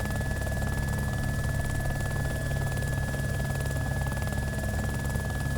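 A continuous mechanical helicopter drone from the video game DayZ as the engine starts, with a steady hum and a thin high whine, unchanging and fairly loud, with no voices.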